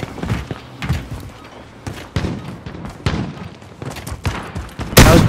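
Gunfire in Call of Duty: Modern Warfare, a fast run of sharp, punchy shots in an uneven rhythm, close and loud, ending in a brighter, heavier blast.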